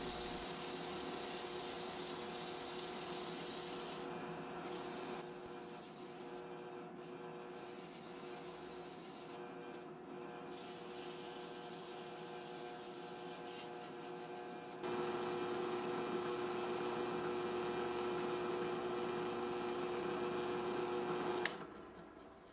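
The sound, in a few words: drill press spinning walnut guitar knobs while sanding them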